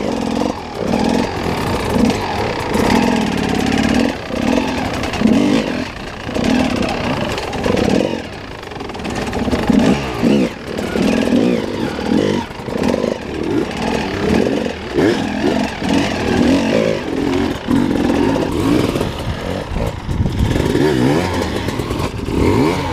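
A dirt motorcycle's engine revs up and down loudly and close by as it rides over wooden beams, with rough clattering and uneven bursts of throttle throughout.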